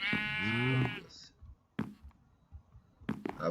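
A sheep bleats in a video game, one loud wavering bleat up close at the start, followed by several sharp clicks and knocks with quiet gaps between them.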